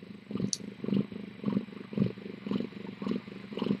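Kittens purr up close in a steady rhythmic rumble, each soft pulse following the last at an even pace, with no other sounds.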